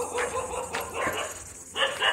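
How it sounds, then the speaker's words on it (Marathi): Dogs bark in a remote jungle hamlet, three or four sharp, moderately near barks in quick succession over a couple of seconds, with faint voices in the background. "कुत्री"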